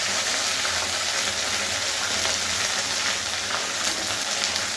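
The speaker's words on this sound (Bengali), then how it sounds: "তো দিয়ে ভালো করে মশলাটাকে কষিয়ে নেব।" Ground ginger, coriander and cumin masala sautés in a pan for coconut dal, giving a steady, close hiss of frying that holds evenly without a break.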